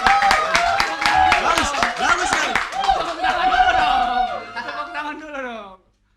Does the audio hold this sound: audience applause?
yes